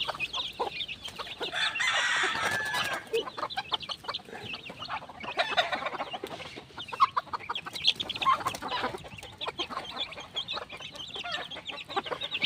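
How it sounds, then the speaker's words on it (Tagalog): Pet chicks and chickens cluck and peep busily at feeding time as grain is given, a dense run of short calls with an occasional crow, moderately close, with no talk. "nabigyan na po natin ulit ng patukang ating mga alagang sisiw dito."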